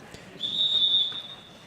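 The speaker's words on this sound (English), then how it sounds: "Knew it before the whistle even happened." A referee's whistle at a high school wrestling match gives one sustained shrill blast of about three quarters of a second, moderately loud above quiet gym ambience.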